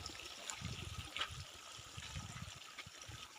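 Irrigation water runs steadily into a field of Guinea grass, a continuous outdoor trickle and gurgle with low splashing, moderately faint and without speech.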